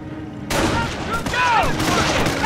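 Dense gunfire crackles through a World War II battle in the Company of Heroes video game during the Normandy invasion. Rapid shots overlap with whizzing, whining sounds, and shouted soldier voice lines run underneath.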